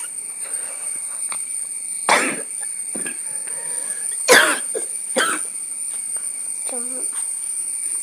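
A person coughs three separate times at close range, with sharp bursts spaced over several seconds against a steady high-pitched background tone and faint voices.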